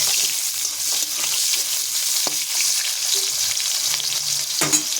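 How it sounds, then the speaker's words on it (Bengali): Pointed gourd (potol) fries lightly in oil with a constant, close hiss of sizzling, broken by a few faint clicks from stirring. "পটলে একটু ভেজে নেব অল্প করে।"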